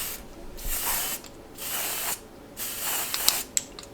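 Hair color spray being sprayed onto gray hair in short hissing bursts, about five separate sprays with brief pauses between, close and fairly loud, with a few small clicks of the nozzle.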